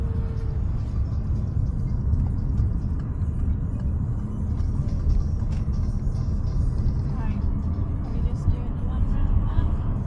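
A car driving steadily, its low engine and road rumble constant throughout, with voices chatting inside the cabin over the drone.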